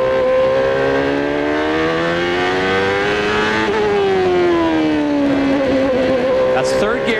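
A CART Indy car at Portland in 1994 runs loud and steady with engine harmonics climbing, then a single gear change drops the pitch mid-clip before it rises again, with commentary running over the top throughout.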